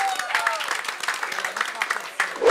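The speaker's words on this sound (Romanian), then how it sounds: "Niște aplauze." Audience applause at a stand-up roast battle in Moldova, a short burst of dense clapping with crowd noise, loud and close, with a voice over part of it.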